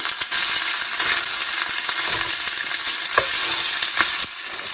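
Pork browns in a hot pan with a loud, continuous sizzle and crackle, broken by a few sharp spatters and stirring clinks, with no talking.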